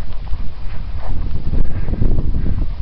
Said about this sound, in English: Wind's a little strong.